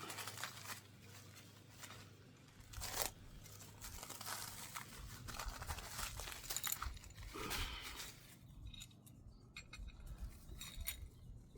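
Packing paper crinkling and tearing while an air suspension kit with hoses and hardware is unboxed for a mk1 car, quiet irregular rustles and rips with a few faint clinks.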